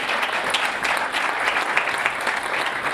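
Audience at a 2020 Census Summit applauds Mayor Frank Scott with dense, steady clapping from many hands that fills the room without a break.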